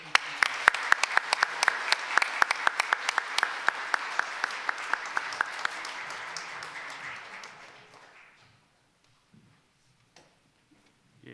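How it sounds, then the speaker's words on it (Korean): A church congregation claps warmly in honour of retiring elders, with dense sustained applause and sharp individual claps on top. It fades out after about eight seconds into near silence with a few faint sounds. "우리 뜨겁게 박수로 경례했습니다."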